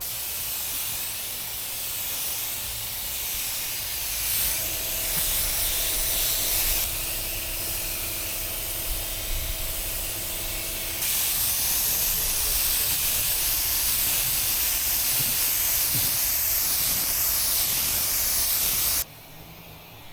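An HVLP spray gun with a 2.0 tip sprays gelcoat in a loud, continuous, close hiss that shifts in intensity over several seconds, then drops off abruptly near the end, with no voices.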